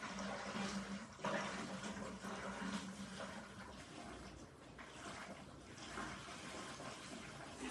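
Water drains and splashes during a water change on a 120-gallon reef tank. It makes a steady, faint wash of flowing water with no speech.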